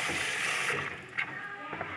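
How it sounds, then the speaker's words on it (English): Cold water runs steadily from a kitchen tap while raw chicken is rinsed under it, a close, constant gushing splash with a couple of brief clatters near the end. "I'm rinsing it off, making sure everything is out"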